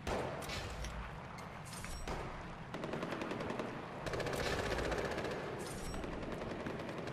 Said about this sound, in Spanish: Están disparando ahí.